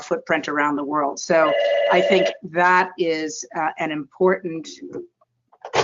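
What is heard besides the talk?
telephone ringing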